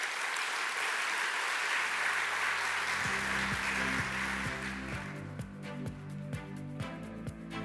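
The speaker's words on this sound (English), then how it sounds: "I think we can give the Minister of Finance and the Public Service another round of applause." Conference audience at an Invest Jamaica business gathering applauds, a dense wash of clapping that holds steady before thinning out as a low, rhythmic tonal pattern comes in underneath.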